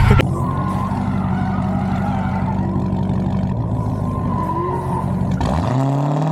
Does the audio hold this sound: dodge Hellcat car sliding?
yes